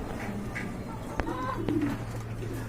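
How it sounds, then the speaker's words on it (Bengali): Pigeons, including Danish pigeons, coo softly in low, rolling calls, with a couple of sharp clicks and a faint steady hum in the background. "আরেক জোড়া কবুতরের কালেকশন দেখতে পাচ্ছেন"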